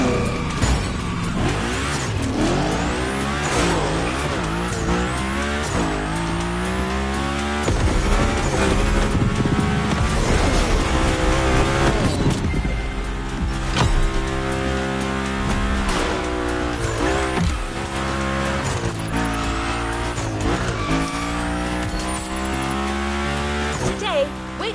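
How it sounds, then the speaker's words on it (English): Two cars race each other, engines revving hard through repeated rising and falling gear sweeps, with occasional tire squeal, loud and continuous throughout with a voice talking over parts of it. "one of their favorite activities is as simple as it is fun: to compare cars by racing them"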